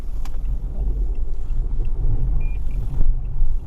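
A Toyota Harrier with a robotized gearbox runs with a steady, loud low-frequency engine rumble and road drone, small clicks and a brief thump near the end, no speech.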